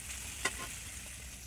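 Curry sizzling in hot oil with onion and tempering spices, a soft, steady frying hiss broken by one brief sharp crackle, quiet and close with no talking.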